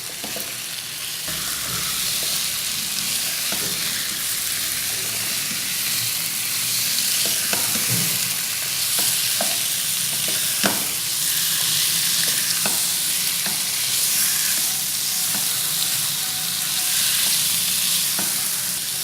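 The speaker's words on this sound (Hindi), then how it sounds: "अब इसमें मैरिनेटेड मटन ऐड कर दें। जैसे ही आप मटन ऐड करें फ्लेम भी हाई कर दें और इसे हाई फ्लेम पे भूनें।" Marinated mutton frying over a high flame in a pan with onion, ginger and garlic for a Darbari mutton curry: a loud, continuous sizzle with occasional stirring clatter, no talking.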